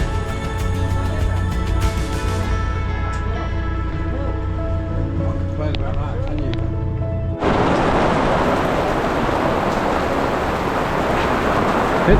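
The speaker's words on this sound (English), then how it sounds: "It's raining." Steady rain falls at a ferry terminal bound for Rotterdam, first under a constant mechanical hum, then a sudden switch to a loud dense hiss of downpour that fills the rest of the stretch.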